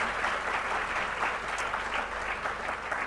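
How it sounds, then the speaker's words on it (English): An audience at a climate action summit in Delhi claps steadily, a dense, even patter of applause from a sizable crowd with no voices over it. "So a big round of applause for our achievers and change makers."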